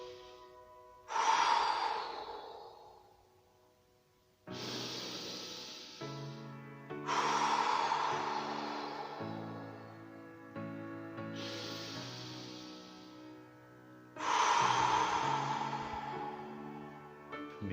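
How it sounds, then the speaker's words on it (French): Slow, deep breaths during a guided relaxation session, four long airy exhalations spaced a few seconds apart, close and calm over soft sustained background music. "Deux ou trois respirations plus toniques maintenant pour laisser remonter mon niveau de vigilance."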